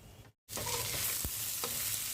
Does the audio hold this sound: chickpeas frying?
yes